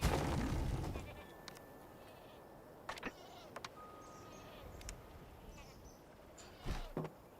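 Goats bleating in the city-building game Anno 1404, a few faint short bleats scattered over quiet ambient game sound, with small clicks and a voice near the start.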